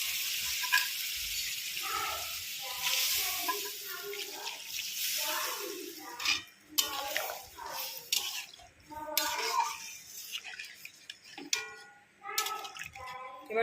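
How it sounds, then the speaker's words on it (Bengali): Singhi fish for a kaliya goes into hot oil with water, giving a soft, uneven sizzle and watery bubbling that swells and fades in bursts, fairly quiet and close. "এখন মাছটাকে দিয়ে দেব। পরিমাণ মতো জল দেব।"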